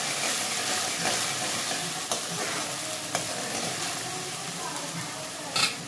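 Onions dropped into hot oil in a kadhai for a Rajasthani besan gatte curry, giving a dense, continuous sizzle with intermittent stirring scrapes and knocks, close and moderately loud.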